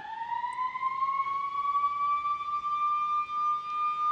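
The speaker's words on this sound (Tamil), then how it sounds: "டைமுக்கு அந்த லஞ்ச் டைமுக்கு ஒரு அலாரம் அடிக்கிறாங்க" A factory's lunch-time alarm siren wails steadily and continuously, its tone rising slowly, heard from a moderate distance with no voices.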